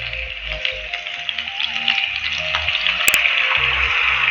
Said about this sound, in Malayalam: ഞാൻ വെളിച്ചെണ്ണ ഒഴിച്ചു കൊടുത്തിട്ടുണ്ട്. ഡീപ് ഫ്രൈ അല്ല, നമ്മൾ ഷാലോ ഫ്രൈ ആണ് ചെയ്യുന്നത്.